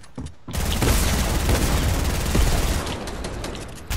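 Rapid bursts of gunfire from other players in a Fortnite match crackle loudly and densely, a near continuous fusillade of shots that lasts several seconds before easing off.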